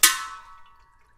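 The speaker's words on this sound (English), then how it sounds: "That was our crush washer." A small metal crush washer drops during an oil change on a 2023–2024 Honda CR-V Hybrid, giving one sharp, close metallic clink that rings and fades within about a second.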